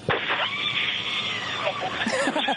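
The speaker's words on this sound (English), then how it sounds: "Hear that screaming inside the capsule?" People scream inside a space capsule descending under parachutes toward landing, a sustained, loud, high-pitched chorus of overlapping voices lasting throughout.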